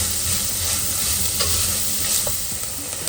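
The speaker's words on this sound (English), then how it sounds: "As you can see, onion is translucent." Chopped onion sautés in a clay pot while being stirred for a fish curry, giving a steady close sizzle with a few soft scraping knocks of the utensil and no voices.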